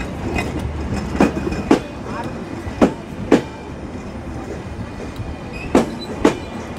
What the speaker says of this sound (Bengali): দেখছেন কত লম্বা ট্রেন।